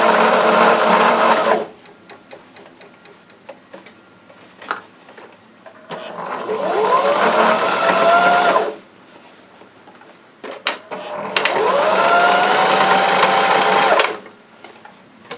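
A sewing machine stitching pajama pants fabric, running in two long whirring bursts with a short burst at the start, quiet pauses and small handling clicks between.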